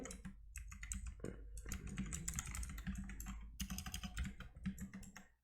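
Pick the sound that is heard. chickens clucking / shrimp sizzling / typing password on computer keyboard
typing password on computer keyboard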